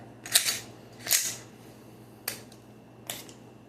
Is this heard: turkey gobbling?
no